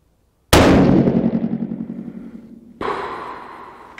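A single loud 6.5 PRC rifle shot firing a 147 grain Hornady ELDM load, a sharp close blast with a long decaying echo, followed by a second, softer burst of sound.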